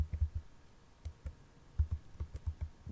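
Typing on a computer keyboard at close range, producing faint, uneven clusters of soft key clicks with short pauses between bursts.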